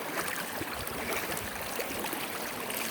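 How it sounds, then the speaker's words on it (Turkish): Water rushes and splashes steadily as someone wades through a stream below the Golalan waterfall in Samsun, a dense, continuous close-up wash with no voices. "Suların içinde şırıl şırıl."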